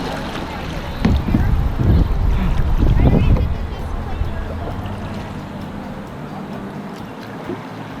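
Kayak paddle strokes drag through the water of Swatara Creek in Swatara State Park, a few close splashy swishes early on, then steady low water and wind noise with people talking over it.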